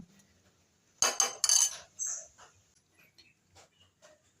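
Small spoon clinking against a dish while salt is added to a pineapple mix, a quick cluster of bright metallic taps followed by a few fainter ticks in a quiet room.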